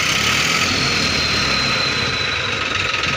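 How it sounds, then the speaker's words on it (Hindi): A modified New Holland 3032 tractor engine with a turbo whistle, a steady close engine rumble carrying a continuous high whistling tone, with no talk. "सुनो भाइयों साउंड सीटी का, ये देखो भाइयों काफ़ी ज़्यादा साउंड बदल चुका भाइयों ट्रैक्टर का।"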